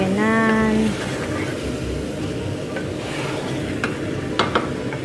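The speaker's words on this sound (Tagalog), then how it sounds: "Haluin niyo siya ng haluin." A spoon works through lamb biryani in a cooking pot, producing a steady scraping and frying hiss with a few sharper knocks toward the end, while a short tonal sound is heard near the start.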